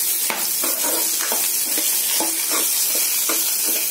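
Veld grape (pirandai) sautéing in sesame oil, a steady close sizzle broken by repeated scraping and stirring strokes of a spoon against the pan, with no talk.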